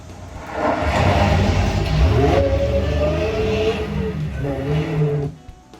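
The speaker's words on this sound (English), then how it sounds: "So these are the sounds of the Hellcat actually doing 180s in the dirt." A supercharged Dodge Hellcat spins 180s on dirt, its engine revving and whining with a rising supercharger pitch and some tire scrub, loud and fairly close for most of the stretch before it drops away at the end.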